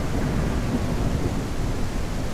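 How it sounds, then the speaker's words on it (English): A heavy thunderstorm in the video game Ranch Simulator gives a dense, constant roar of rain and low rumbling thunder that fills the scene steadily and loudly, with no talking. "I thought the storm might be dying out, but it's definitely back with a vengeance."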